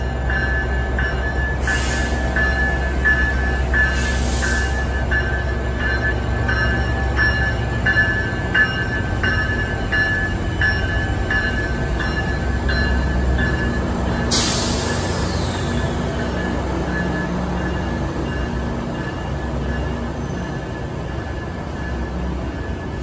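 A GO Transit MP40PH-3C or MP54AC diesel locomotive passenger train rumbles steadily past with a continuous low roar, punctuated by several sharp hissing bursts of air brakes, heard close by.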